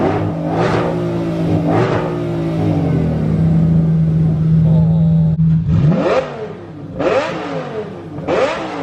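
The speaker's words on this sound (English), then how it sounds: "Let's do a little rev off." A 2020 Shelby GT500 and a modified Lamborghini trading loud, close engine revs in a rev-off: several sharp blips, then one long sustained rev that climbs and falls, followed by more quick bursts.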